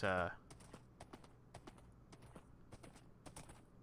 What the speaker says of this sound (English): this horse does not enjoy going upstairs, does he? He kind of glitches out.